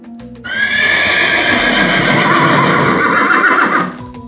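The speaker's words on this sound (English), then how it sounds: "This is a horse." A horse gives one long, loud whinny lasting about three seconds, a strong quavering neigh that rises sharply and then trails off, heard close and alone.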